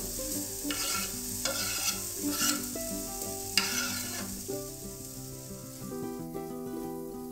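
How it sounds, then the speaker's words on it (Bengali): Khoya kheer frying in a pan while a spatula stirs it, with a continuous close sizzle and rhythmic scraping strokes that come in bursts and then settle into a softer fry. "এবার আমি ফ্রাই প্যানের মধ্যে দিয়ে দিলাম খোয়া ক্ষীর"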